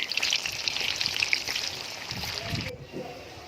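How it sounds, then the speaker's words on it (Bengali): Boiled eggs and potatoes coated in turmeric fry in hot oil, giving a steady close sizzle with crackling spatters that cut off abruptly near the end, leaving faint low clatter. "প্রথমে ডিম আর আলুগুলোকে সেদ্ধ করে হলুদ মাখিয়ে এইভাবে ভেজে নেব।"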